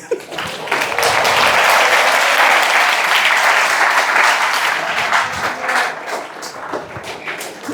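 Engineering college students in a hall applaud loudly, a dense, even wash of clapping that swells quickly, holds, then thins into scattered claps toward the end.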